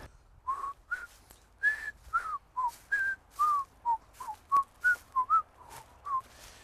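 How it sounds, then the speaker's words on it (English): A person whistles a lively tune up close, a series of short, bright notes rising and falling in a steady rhythm. "All you have to do is start whistling"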